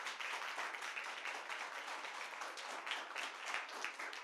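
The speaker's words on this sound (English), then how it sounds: "Let's give them a bigger round of applause." An audience applauds spelling bee contestants, a steady wash of dense clapping that holds evenly for the whole stretch without a break or voice.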